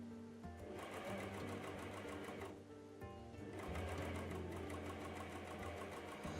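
Sewing machine fitted with a binder attachment runs steadily while stitching a Christmas sweater sleeve, a close, continuous mechanical whirr with a rapid needle rhythm that pauses briefly partway through and then resumes.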